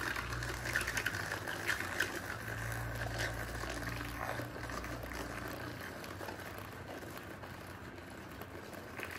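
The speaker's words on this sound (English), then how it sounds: "I just use this little frother." A small handheld frother whirs steadily as it stirs thick paint with a little water in a container, a faint continuous buzzing spin with light sloshing nearby.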